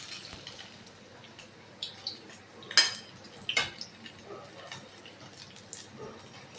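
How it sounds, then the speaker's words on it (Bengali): Fried crystal Maggi balls set onto a plate, with a few light clinks of cutlery and crockery over a quiet kitchen background, no talking. "এবার একটা প্লেটে তুলে নেব।"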